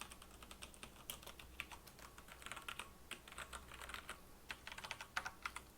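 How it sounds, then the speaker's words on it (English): Soft, close typing on a computer keyboard, a quick irregular patter of light key clicks running steadily throughout in a quiet room. "Let me just type that up for you."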